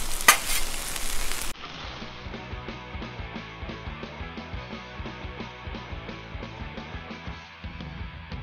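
Flipped smash burgers sizzle on a hot Blackstone griddle, a dense continuous crackle and spatter close up, with a louder burst at the start before settling into a steady sizzle.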